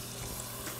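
Water poured into a pot on a stove, a short steady splashing rush heard close and alone, at moderate level.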